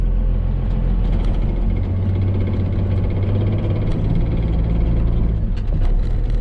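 Dodge 2500 pickup with a Cummins diesel and NV4500 five-speed manual transmission, in gear with a fault: a steady loud rumbling drone and vibration with a low whine, continuous throughout, no talking.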